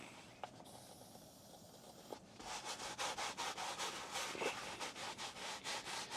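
Cloth car upholstery scrubbed in small circular motions, soft close rubbing that starts faint and irregular, then settles into a steady rhythmic swish of repeated strokes.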